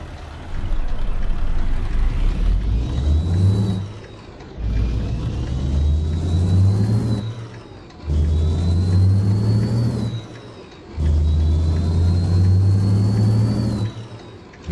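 A W900A truck engine from JC's Amateurs Engine Pack in American Truck Simulator roars through four repeated rev-ups, each climbing then cutting off for a gear shift, loud and close with a deep rumble.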